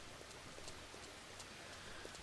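Steady rain falls in the farming video game Farmer's Dynasty, a soft continuous hiss with faint patter, evenly spread and moderately quiet throughout.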